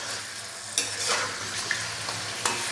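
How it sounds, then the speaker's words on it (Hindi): Chicken frying in hot oil in a karahi gives a steady sizzle, with a few sharp stirring scrapes and clinks of a utensil against the pan. "चिकन को अच्छे से वॉश करके इसका जो पानी है वो ड्रेन कर लिया। तो चिकन डाल देंगे कढ़ाई के अंदर।"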